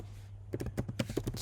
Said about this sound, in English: If that me typing there is really, really loud, I'm sorry.